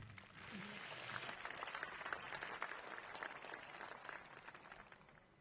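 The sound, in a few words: applause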